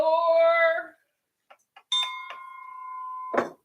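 A ship's bell on a pirate ship set rings with a bright, sustained metallic tone that rings out and fades. Small knocks follow, then a second, clearer strike that hangs in the air before a rough scrape.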